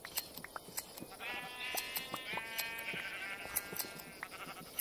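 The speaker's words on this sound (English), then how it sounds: "I'm going to get some more wool of these sheep here" Sheep bleating in a video game: one drawn-out, wavering bleat with a rising and falling pitch lasts several seconds. Sharp clicks and small game effects scatter around it, and no one speaks.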